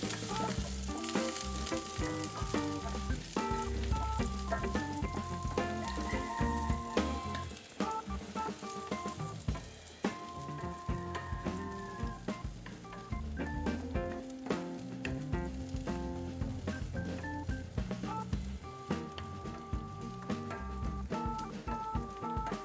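Garlic and onion sautéing in a pan for ginisang monggo, with a steady sizzle and intermittent stirring scrapes under persistent background music, no talk.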